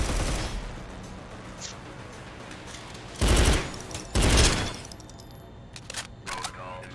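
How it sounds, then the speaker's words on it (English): Automatic turret in the roguelike shooter Synthetik letting off two short, loud bursts of gunfire about a second apart, then a few fainter scattered shots over steady game background noise. "that's a turret"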